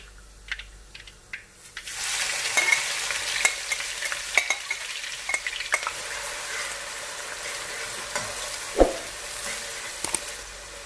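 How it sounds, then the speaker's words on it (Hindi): Oil crackles faintly, then a loud, steady sizzle takes over as onions hit the hot pan after briefly fried spices, with occasional scrapes and pops from stirring. "बस 3 से 4 सेकंड तक इसे भून के इसमें हम प्याज ऐड करेंगे।"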